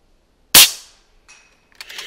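A single sharp rifle shot at a long-range target outdoors, loud and close, followed by a fading tail and a faint distant report or echo.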